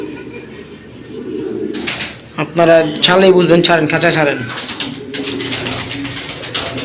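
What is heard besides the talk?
pigeons cooing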